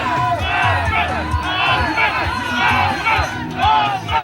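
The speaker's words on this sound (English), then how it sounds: "Dr. Osman Martinez marched through the streets of Bella Vista Village with a crowd of his supporters all wearing blue" A crowd of supporters dressed in blue marches through the streets of Bella Vista Village, chanting and shouting in loud rhythmic waves with whoops and overlapping voices, close and energetic throughout.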